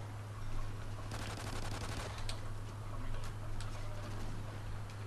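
Pistol fire in a Call of Duty match, a run of rapid sharp shots over constant game background noise and a low steady hum, fairly far and muted.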